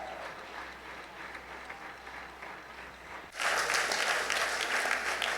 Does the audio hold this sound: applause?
yes